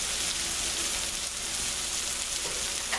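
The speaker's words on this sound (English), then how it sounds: "Sauteing this." Veal pieces sauteing in a hot pan, giving a steady, close, dense sizzle like light rain that holds level for the whole stretch, with no talk over it.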